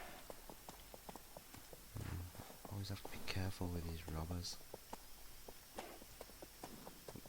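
Hooves of a ridden horse in the game Age of Conan clop along in a steady rhythmic gait, moderately loud, while someone talks over them for much of the stretch.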